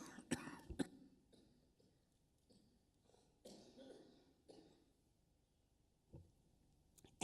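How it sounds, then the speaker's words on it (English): Several quiet coughs and throat-clearing bursts come in short clusters, separated by near silence, from one person close to the microphone. "I'm going to start coughing"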